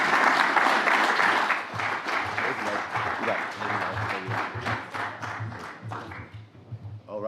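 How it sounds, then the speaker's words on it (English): Audience applause after a panel session at a live conference, steady dense clapping that fades toward the end, with a voice speaking over it. "big round of applause there"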